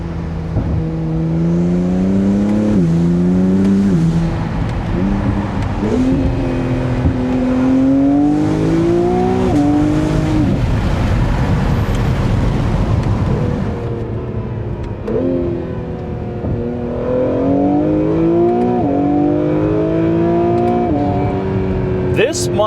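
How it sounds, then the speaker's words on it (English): An Acura NSX Type-S V6 exhaust rises through repeated hard accelerations, each rising pitch sweep cut by a gear change, then eases off before climbing again, loud and close with someone talking over it. "that exhaust, it sounds so good"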